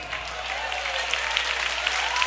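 Church congregation applauding during a Brazilian Portuguese worship service, a steady wash of clapping throughout with a few sharper claps standing out, no voices over it.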